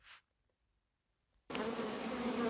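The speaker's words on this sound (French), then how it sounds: "Petite pause pour vous présenter un bel essaim que j'ai eu sur l'arbre juste derrière la ruche" A swarm of honeybees buzzes loudly and steadily beside a hive, a dense continuous drone that starts abruptly after a brief burst and a stretch of near silence.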